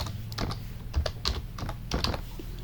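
Keys clacking at a steady pace on a computer keyboard while a date is entered into an OpenOffice Calc spreadsheet, close and moderately loud, with no voices.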